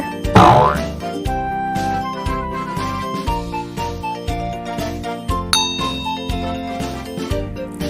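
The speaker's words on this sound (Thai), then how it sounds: "t h e s e are bells" Bells ring and jingle with bright, sustained metallic tones, struck repeatedly in a fairly even rhythm, close and clear with no talking.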